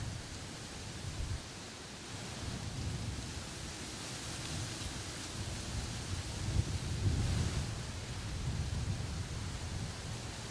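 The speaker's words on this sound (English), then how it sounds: "The wind's picked up significantly. It's about a sustained 25 mile per hour, and it's gusting higher than that." Strong gusting wind of about 25 mph buffets an open hunting spot in southeast Iowa in November, a steady broadband roar that swells into louder gusts around the middle and stays constant throughout.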